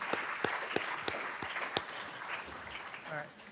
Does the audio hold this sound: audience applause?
yes